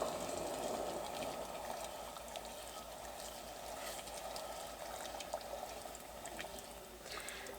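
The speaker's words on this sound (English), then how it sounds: "It's come to a boil." A pot of wild violet jelly mixture boils as granulated sugar is stirred in, giving a steady, moderately loud bubbling hiss with faint scraping throughout.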